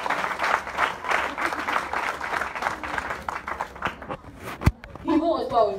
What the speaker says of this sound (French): On peut applaudir ça aussi, hein?